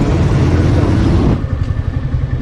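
Motorcycle in really bad condition after an accident, its engine running with a loud, rough low rumble close by that drops to a steadier idle partway through.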